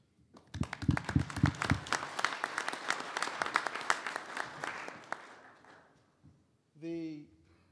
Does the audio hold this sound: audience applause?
yes